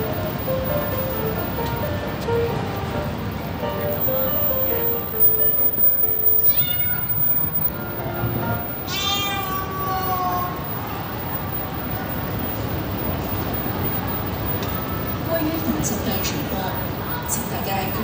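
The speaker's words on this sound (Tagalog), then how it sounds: "Ah, nandito pala yung mga pusa." Cats at Meow Plaza in Metro Plaza, Kwai Fong, Hong Kong, give several meows, some high and drawn out, under a person talking outdoors with rustling background noise.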